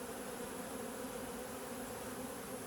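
Honey bees at an open hive working fresh comb with chestnut honey, a continuous soft droning buzz with a steady high whine, even and unbroken, heard alone.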